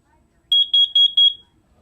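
A smoke detector's test button sets off a short run of sharp, high electronic beeps: one lone chirp, then a quick cluster of pulses, heard close and clear against silence.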